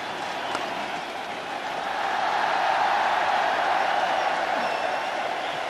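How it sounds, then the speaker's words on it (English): Cricket crowd applauding Saeed Anwar's fifty at a 1996 World Cup match between England and Pakistan, steady broad applause and crowd noise that swells and holds, heard from a distance in the stadium. "That's Saeed Anwar's 50 and a well-deserved applause that he's receiving and acknowledging"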